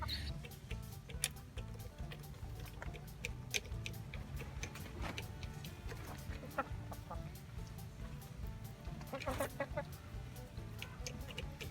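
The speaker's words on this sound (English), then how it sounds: "Have 11 laying hens right now and 1 rooster." Eleven laying hens, including a blue Wyandotte, and one rooster cluck and murmur steadily in an enclosed coop, with scratching and pattering underneath, a constant close flock chatter.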